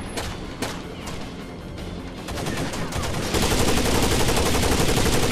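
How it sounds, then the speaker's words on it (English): Gunfire from blind firing in the video game Rainbow Six: Vegas 2: sharp individual shots, then dense rapid automatic bursts that grow louder and continuous toward the end. "Now I get to blind fire all the time."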